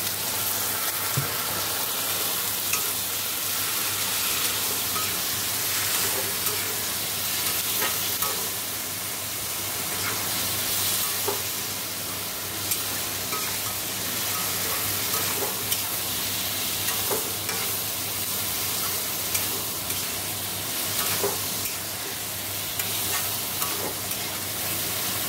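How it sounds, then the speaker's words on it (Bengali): Cumin, coriander and Kashmiri chili powder sizzle and fry with a splash of water in a pan and are stirred now and then. The sizzle is steady and close, with faint scraping, and no one speaks. "জল দিয়ে কষি।"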